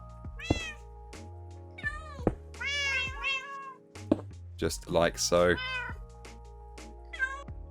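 Minecraft cats in a cat cafe meow repeatedly in short, high, wavering calls spread across the stretch, close and clear, with someone briefly talking in between.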